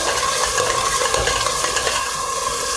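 Onions frying and being stirred in a pan for an eggplant stew, a steady close sizzle with scraping stir sounds throughout, no voices.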